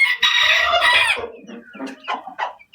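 Chickens squawk and cluck loudly in alarm while being handled for an injection, a long close squawk followed by shorter clucks.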